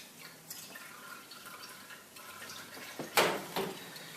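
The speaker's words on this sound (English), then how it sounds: "I'll pour away the water that's been used for soaking." Soaking water from lentils is poured away, a faint trickle and light drips building to a brief louder splash near the end, heard alone.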